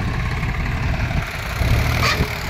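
A 3-cylinder 265 tractor engine, working on a steep raised earth embankment, chugs at idle outdoors in a steady loud low rumble, with a brief higher rattle near the end.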